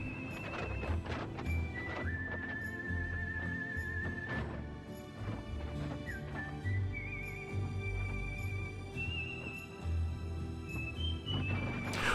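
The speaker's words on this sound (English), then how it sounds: "you can see those burros." Burros wander the street of the old mining town of Oatman, Arizona, on Route 66, with steady hoof clip-clops and an occasional whinny-like bray amid a busy, continuous outdoor background with high whistling tones.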